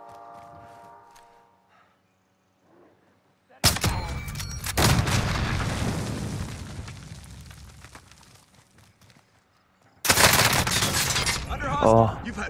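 Dense bursts of video game gunfire in a team shooter, loud sustained volleys in two long stretches separated by a brief lull, with players talking over the action.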